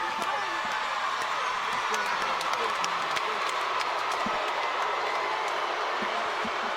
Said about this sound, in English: The crowd showing their approval and their appreciation.